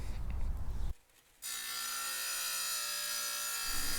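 Harbor Freight 7-inch portable wet-cut tile saw cutting tile, a bright steady grinding whine after a brief quieter gap, loud and close with no speech.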